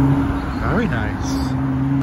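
A Porsche 992 Turbo supercar drives past on a street in Alderley Edge, its engine note briefly rising and falling over a steady background hum, with voices nearby.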